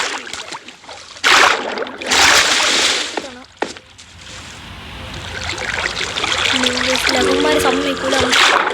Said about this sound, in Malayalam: ഞാനാണെങ്കിൽ ആ വെള്ളത്തിൽ വീണ് കാണിച്ചു തരാം